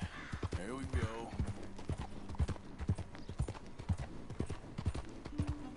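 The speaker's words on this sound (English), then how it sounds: "agora eu vou voltar a correr com o cavalo" Horse hooves clip-clopping at a steady gallop-like rhythm in the video game Red Dead Redemption 2, close and continuous, with a few tonal game sounds over them.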